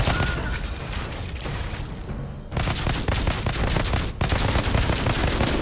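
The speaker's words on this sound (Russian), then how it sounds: "Стрельба очень приятная в игре." Loud, continuous automatic gunfire from the shooter game Outriders, rapid shots with heavy low-end impacts and short breaks, filling the whole stretch with no talk.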